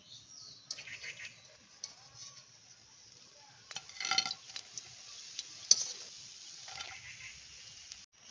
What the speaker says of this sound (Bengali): এভাবে উল্টে পাল্টে ভেজে নিচ্ছি না হলে ভিতরটা কাঁচাই থেকে যাবে